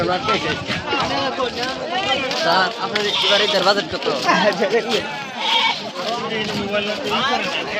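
Many goats bleat over one another at a crowded cattle market, with loud and overlapping calls near and far, mixed with the babble of people talking.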